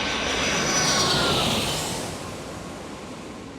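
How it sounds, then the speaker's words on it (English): Airliner jet engines at San Diego International Airport, a broad roaring rush that swells and then slowly fades as the aircraft passes at moderate distance, with no talk over it. "Oh, you can hear it. You can hear those engines."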